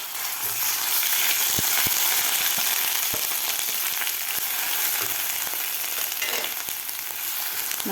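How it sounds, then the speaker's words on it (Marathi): Cumin seeds frying with ginger and garlic in a pan give a steady, close, loud sizzle with scattered crackles and pops throughout. "जिरेसुद्धा व्यवस्थित आपल्याला ह्या अद्रक लसूण बरोबर फ्राय करून घ्यायचे आहेत"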